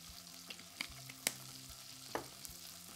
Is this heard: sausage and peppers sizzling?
yes